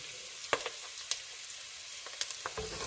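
Chopped onions, garlic, celery and carrots sautéing in a pot for soup, a soft steady sizzle with faint, occasional clicks of stirring, quiet and close with no voices.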